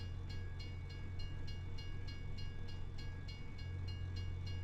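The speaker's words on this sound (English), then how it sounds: "I believe the engine was originally built for torpedo boats, and then they moved it into a train." Train engine in Farming Simulator 25, originally built for torpedo boats, running with a steady low drone and a regular rhythmic clicking pulse, heard alone at low volume.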